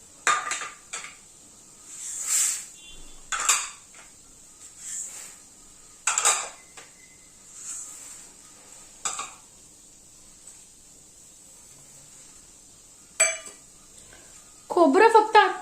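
Dry mouth-freshener ingredients being mixed by hand in a large metal plate, giving intermittent clinks and scraping rattles in short bursts separated by quiet pauses, close by.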